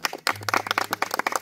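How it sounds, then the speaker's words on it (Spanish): A small church congregation claps for the choir, with distinct individual hand claps in a quick, uneven rhythm, fairly close and moderately loud, starting after a brief pause and continuing steadily. "Terminemos dándole un aplauso al coro."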